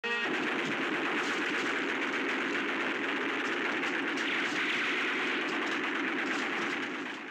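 A machine gun fires in a continuous rapid stream of shots in the western film Django, loud and sustained throughout with no pauses and no speech.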